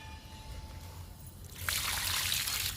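Liquid fertilizer trickles and splashes onto potted flowering plants, starting faintly and turning into a steady, brighter pour in the second half.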